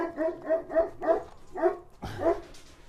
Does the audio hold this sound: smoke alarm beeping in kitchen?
no